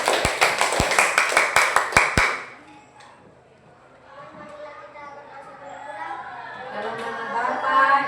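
About eight sharp, evenly spaced claps ring out in a classroom, loud and close for a couple of seconds, then stop as quieter voices and murmuring take over.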